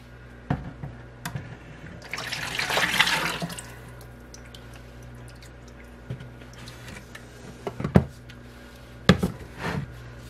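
Liquid for soap making, with olive oil among the ingredients, poured into a big bucket: a rushing pour that swells for a couple of seconds, then scattered drips and clunks of handling the containers, close by with no talk.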